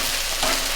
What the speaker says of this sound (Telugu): బెండకాయలు ఫ్రై అవుతున్నాయి, బాగా ఫ్రై అవుతున్నాయి.